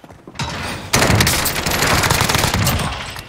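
Loud, sustained machine-gun fire erupts in the Rebirth video game, a few opening shots followed by a dense, continuous rattle of rounds cutting down a player at close range.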